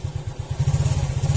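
A Suzuki Smash 115 motorcycle engine idles on a weak, low battery, giving a steady, rapid low-pitched thumping pulse that runs evenly throughout at close range, with no talking.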